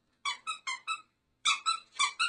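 A plush dog toy from a BarkBox safari-themed box squeaks in two quick bursts, four sharp high-pitched squeaks, a short pause, then four more, loud and close with no talking.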